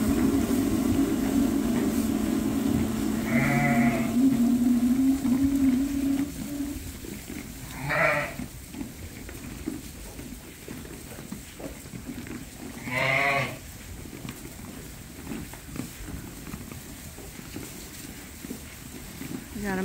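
Sheep bleat on a working sheep farm at feeding time, a few separate calls spaced several seconds apart, fairly close, over a low steady rumble and shuffling movement, with a person talking early on.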